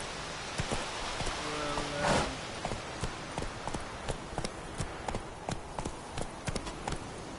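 Roach the horse's hooves clip-clop in The Witcher 3, an uneven run of sharp, close hoofbeats over a soft rain-like patter, with a brief muffled bump early on.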